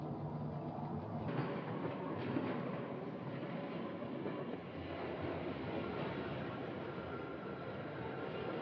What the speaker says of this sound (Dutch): Langs 15 sporen met 300 wissels komen en gaan de treinen.